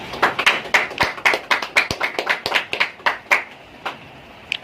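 A single pair of hands claps at an honouring event, about two dozen sharp, close claps in an irregular quick rhythm that thins out and stops near the end, with no talk over them.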